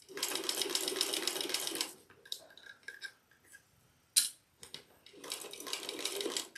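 A home sewing machine stitches across the handle of an AnnaBelle shoulder bag, running in two quick rattling bursts at the start and end with quiet adjusting clicks and fabric handling in between, close and alone.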